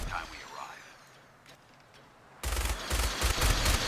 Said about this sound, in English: I'm over here shooting down at civvies